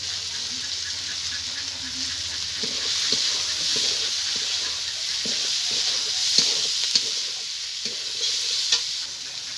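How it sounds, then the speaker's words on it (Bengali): Pre-fried vegetables sizzle steadily in a hot pan for jhal-sooji upma, with a spoon scraping and stirring in repeated close strokes over the constant frying hiss. "আগে ভেজে রাখা সবজিটা দিয়ে দিলাম"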